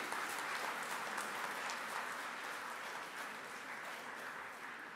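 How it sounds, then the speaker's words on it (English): Steady applause from an audience at a university silver jubilee ceremony marking a commemorative postal stamp release, dense and continuous clapping throughout with no pause. "A big clap for the students and everyone."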